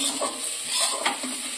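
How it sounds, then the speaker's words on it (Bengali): Ground cumin and coriander spice mix stirred and fried in a pan as part of an egg curry, with steady close sizzling and a few soft scraping strokes of a spoon, no voices. "এবার আমি মশলাটাকে মিক্স করে নিচ্ছি, একটু ভাজা ভাজা করে নিচ্ছি"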